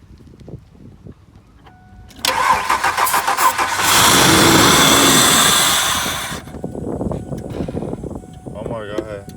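A Ford F-150 pickup cranking on starter fluid sprayed into the throttle body: rhythmic starter churning, then a loud roaring catch that swells and runs for a few seconds before dying back. Background voices are heard around it.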